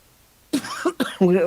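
A person coughs hard several times in quick succession, loud and close, with rough throat-clearing bursts and a voiced, harsh tail.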